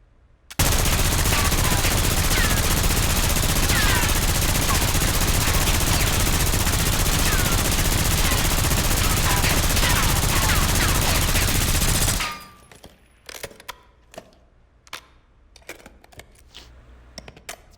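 A light machine gun fires one long continuous burst for about twelve seconds in Call of Duty Black Ops 6, loud and close, then stops abruptly and leaves scattered faint clicks and clatter.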